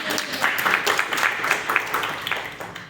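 Audience applause at a machine-learning talk on agriculture, a steady crowd of clapping hands at moderate loudness for about three seconds, no talk over it.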